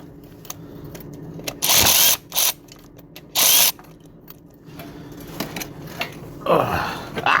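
Bolts loosened on the transmission filter of a Ram 3500 truck with a power tool, heard as three loud short bursts among clicks and clanks of tools, close up, with no talk.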